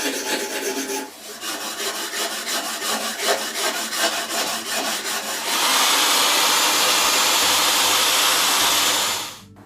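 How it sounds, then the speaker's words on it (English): Varnish being scraped and sanded off wood with wire wool and fine sandpaper, a loud rhythmic rasping of quick back-and-forth strokes that gives way to a steady, harsher continuous scrubbing. "So now that we've scraped off and sanded off the varnish"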